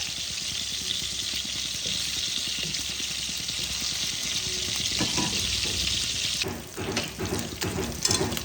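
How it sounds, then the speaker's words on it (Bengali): Rohu fish pieces spit and sizzle in a pan of hot oil, a close steady crackle that turns more uneven near the end with a few louder bursts and clatters, and no one speaking. "মাছ যত ভালো করে ভাজা হয় তত মাছের ঝোল টেস্টি হয়।"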